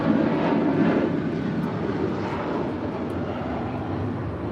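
Asiana airliner at LAX, its jet engines a broad, steady roar at moderate distance that fades slightly over a few seconds, with no voices over it.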